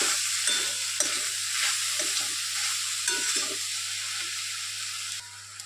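Red amaranth greens frying in a pan while being stirred, a steady soft sizzle with a few gentle scraping strokes, fairly quiet and close.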